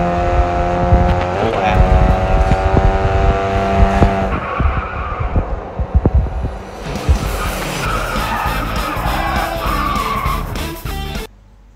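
A car in the mobile racing game Racing Master accelerates and skids through a corner, engine revving with sustained tire squeal and screeching, loud and close throughout.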